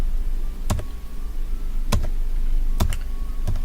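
Computer keyboard keys are pressed to tab through form fields during data entry: four separate crisp clacks spaced about a second apart, close up, over a low background hum.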